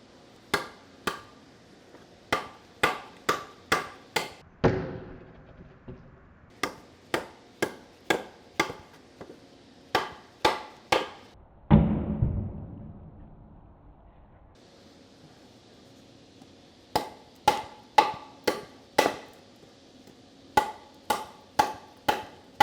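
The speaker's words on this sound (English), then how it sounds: "So today we're going to go ahead and chop this 2x4 in half." A high-endurance knife chopping a 2x4 in half: rapid clusters of sharp wooden thwacks, close and crisp, broken by a couple of longer creaking, splitting moments before the chopping resumes.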